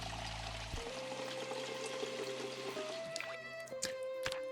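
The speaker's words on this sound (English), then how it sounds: "And refill my water bottle." Water pouring and trickling while a water bottle is refilled in Project Zomboid, a steady running stream followed by drips and splashes, close and fairly loud, no talking.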